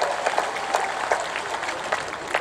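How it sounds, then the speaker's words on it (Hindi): Crowd at a political rally on the bank of the Narmada applauds, a moderately distant wash of clapping with scattered louder claps and faint background voices. "दोनों हाथ उठा के और जोरदार तालियां बजा के आडवाणी जी का स्वागत कीजिए"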